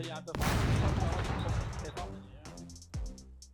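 TNT explosions in the game SCUM: a loud blast bursts in, decays into a rumbling tail, and is followed by sharper, shorter bangs near the end, with a voice talking in the background.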